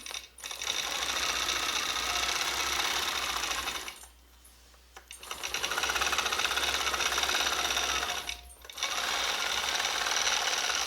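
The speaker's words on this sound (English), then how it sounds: "Sew this guy down" A longarm quilting machine stitches down a green quilt block in long, loud runs of rapid mechanical chatter, stopping twice for brief pauses before starting up again.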